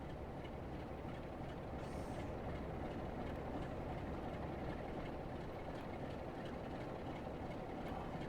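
Train rumbling past in Train Sim World 4 on the Brighton to London line at night, a steady dense roar held at constant loudness for the whole stretch, with no voices.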